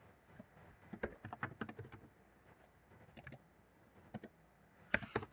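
Someone types on a computer keyboard to rename a document, with quiet close bursts of quick key clicks separated by brief pauses.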